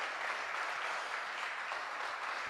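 An audience at a world shooting championship for mixed 50m rifle prone claps in a steady, continuous round of applause, moderately loud and fairly close.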